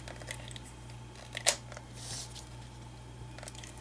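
Thread from a stitch kit is dragged down and flicked sideways to cut it, giving one sharp, close snap amid quiet rustling and a faint steady hum.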